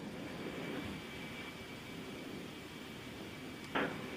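A C-17 Globemaster III jet transport taking off from an Army airfield, a steady broadband engine roar holding through the whole stretch, with a brief sharper burst near the end.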